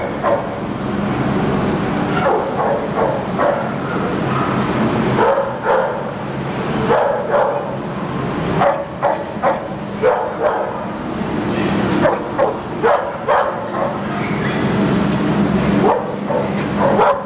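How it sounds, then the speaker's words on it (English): Dogs barking and yipping throughout an animal shelter adoption room, a chorus of overlapping barks from several dogs at varying distances, steady and continuous with occasional whimpers. "There's more dogs in there."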